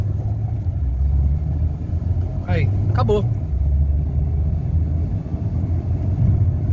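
A Renault Logan 1.6 16V engine, earlier weak and lacking power, runs with a steady, deep rumble throughout. Someone speaks briefly over the engine noise partway through.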